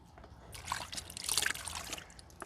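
Water rinses restoration product off a faded car headlight lens, a soft trickling splash that swells to a steady spray in the middle and then tapers off, close by, with no talking.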